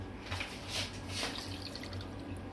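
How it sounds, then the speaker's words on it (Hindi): Two glasses of water go into a cooking pot of beef handi already seasoned with salt, red chillies and garlic-ginger paste, giving a faint, soft splashing and dribbling with no talk. "दो गिलास पानी डालूँगी मैं।"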